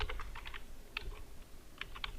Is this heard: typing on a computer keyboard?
yes